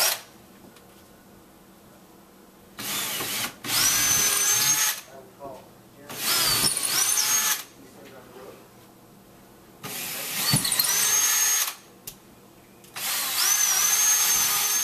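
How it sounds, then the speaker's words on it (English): A power drill pre-drilling into wall studs runs in several bursts of a few seconds each, whining loudly with short pauses between, close by. "we're going to pre-drill into those holes to run the lag bolts in"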